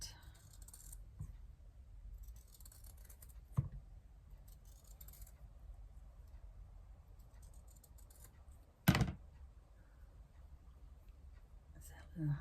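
Scissors cut through folded paper in a quiet room, giving a few soft snips and one crisp, sharper cut near the end, with faint murmuring in the background.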